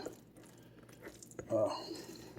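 Gooey raw shrimp burger mixture squished and worked by hand, giving soft wet squelches that swell to a louder, thicker squish near the end, heard close.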